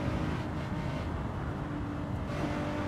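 A Nissan Z in a racing game revs hard, its engine note holding a loud, sustained high-rpm drone with a brief shift near the end.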